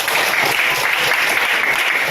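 A classroom of students claps hands together in a loud, dense burst, continuous and close throughout with no voices.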